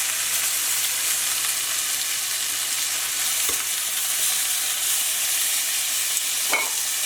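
Pepper steak meat sizzles steadily in hot oil in a pan, a dense continuous frying hiss with a couple of faint utensil taps.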